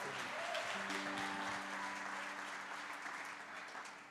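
A church congregation in Rio de Janeiro applauds at an afternoon miracle service, a steady wash of many hands clapping with a sustained organ-like tone beneath, fading slightly toward the end.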